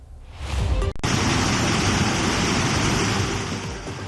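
Roaring floodwater after a cloudburst in Kullu, Himachal Pradesh, a loud, steady broadband rush of torrent that fills the clip without pause, with only a brief dip near the one-second mark.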